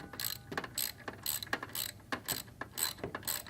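Steady ratchet clicking as a 10mm socket wrench tightens a nut on a Yamaha R9 exhaust hanger, a close, even run of about eight sharp back-and-forth bursts with no talking.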